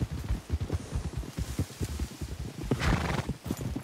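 In Red Dead Redemption 2, a horse's hooves drum in a quick, steady galloping rhythm up close, and a loud whinny rises near the end.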